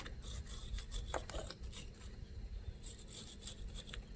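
Small cheap stainless steel brush scrubbing battery terminal connections on a 6.7 Cummins, quick rapid scratchy bristle strokes in bursts, close but fairly quiet over a low rumbling background.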